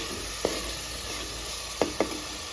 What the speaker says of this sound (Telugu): ఇది మీడియం ఫ్లేమ్లో పెట్టుకొని బాగా ఫ్రై చేసుకోవాలండి.